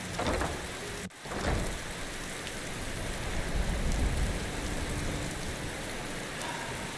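Steady rain falls in the video game Enderal, a dense, even hiss of drops hitting surfaces, broken by a brief dip near the start before the downpour continues.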